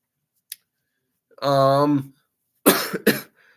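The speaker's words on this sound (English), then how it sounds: "I apologize for the cough." A couple of short, harsh coughs close to the mic, coming after a brief voiced sound and a small click, then silence.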